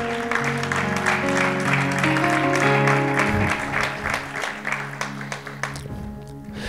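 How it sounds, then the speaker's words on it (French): A church congregation applauds and cheers the Lord during a sermon, a sustained crowd clapping mixed with voices and music, loud and full before thinning out toward the end. "Est-ce que tu peux acclamer les Seigneurs?"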